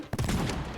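Gunfire in the video game Wasteland 3, a brief loud burst of rapid shots, close and dense, lasting under a second.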